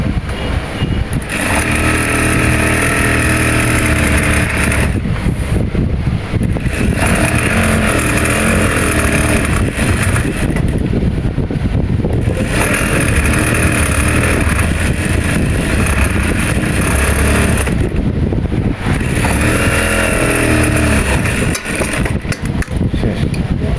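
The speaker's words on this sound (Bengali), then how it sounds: "এখানে ধরবো, ধরে এখানে একটা সেলাই আগে দেবো" A sewing machine stitches a pajama pant in long, loud runs of motor hum, stopping briefly between seams before starting again.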